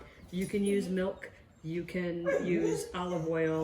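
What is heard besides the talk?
dog barking and whimpering at another dog outside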